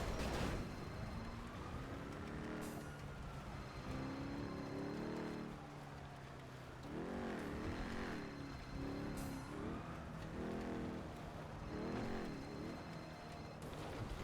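A car driven in GTA V on the NoPixel roleplay server, engine droning steadily with repeated rising revs as it accelerates and shifts, close and continuous under a rain-like hiss, with no talking.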